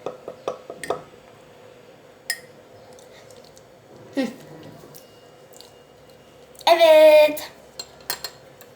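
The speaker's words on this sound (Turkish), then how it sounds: "Sütün rengi iyice ne kahverengi olana kadar karıştıralım." A spoon stirs a milk and Nutella drink in a cup, giving a few scattered clinks and taps against the sides with quiet pauses between them, followed by one louder, longer clatter near the end.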